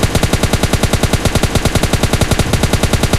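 Rapid, evenly spaced gunshots in the mobile battle-royale game PUBG Mobile Lite, with a shotgun S686 among the weapons, a continuous loud burst of fire running through the whole stretch with no talk.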